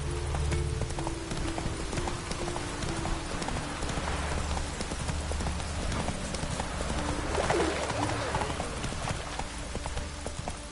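Horse hooves clip-clop steadily in The Witcher 3, a continuous rhythmic gallop over a low ambient bed of game sound, moderately loud and without pauses.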